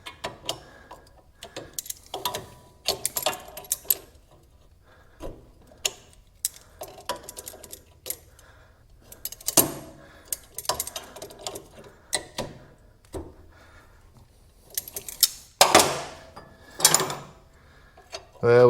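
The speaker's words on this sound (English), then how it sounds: "Now I got to get this bolt out of here." Metal bolt being worked loose from the suspension of a Mazda 3 during ball joint, strut and CV axle replacement: scattered clicks, ratcheting ticks and clunks of tools, close and intermittent, with a few louder bursts near the end.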